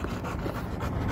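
An American Bully dog pants rapidly and steadily, close and fairly loud, with quick rhythmic breaths filling the short moment and no talking.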